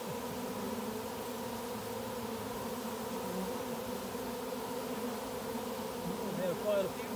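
A honey bee swarm fills the air with a steady, dense buzzing hum that holds constant throughout, close and continuous, with a faint voice briefly underneath.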